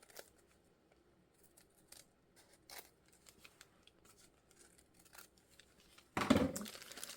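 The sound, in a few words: scissors trimming paper for a junk journal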